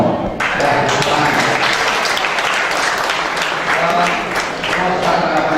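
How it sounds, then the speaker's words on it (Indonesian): Loud, dense applause from a seminar audience in Bali fills the room continuously, with a faint voice underneath at moments. "Oke, kita berikan tepuk tangan"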